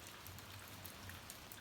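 Steady, faint rain falls outdoors on a cold day, a soft even patter with no voices.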